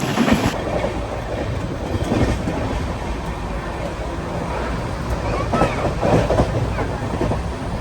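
Netravati Express sleeper train from LTT to Tiruvananthapuram Central running at speed, heard from inside a coach as a steady loud rumble with rhythmic clickety-clack of wheels over rail joints and occasional sharper rattles.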